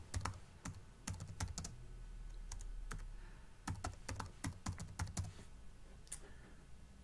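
Close computer keyboard typing in quick irregular bursts of key clicks with short pauses, quiet and without talk.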